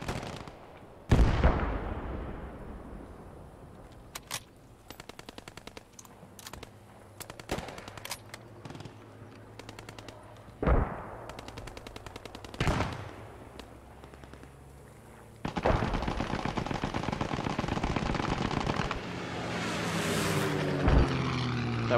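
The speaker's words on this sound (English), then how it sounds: "That would have been a, like, perfect strafing run if they were still spawning there" Aircraft machine-gun strafing in the Post Scriptum battlefield game: loud, sharp bursts of gunfire crack over a droning propeller engine, with scattered impacts and a long sustained rattle near the end.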